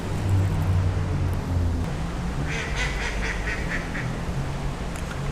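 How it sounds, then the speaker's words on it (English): A duck by a downtown mountain creek gives a short burst of rapid quacks midway through, heard fairly clearly over steady flowing water and low background rumble. "Stop laughing at me, duck."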